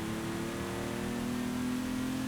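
A BMW M1 engine in Forza Horizon 5 hums at a steady mid pitch, rising gently toward the end, with a constant layer of background noise and no talk.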